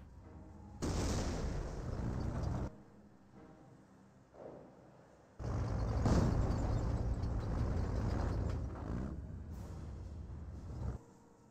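Gunshots and grenade blasts in Company of Heroes 1 combat, two long loud stretches of dense rumbling explosions and firing separated by a quieter gap.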